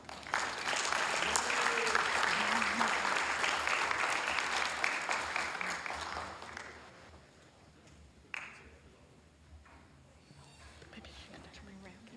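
A big round of applause from the audience at a city council meeting, loud and sustained for several seconds before dying away. Scattered claps and murmuring voices follow.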